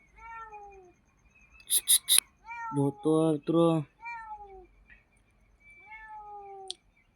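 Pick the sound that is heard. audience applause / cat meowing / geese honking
cat meowing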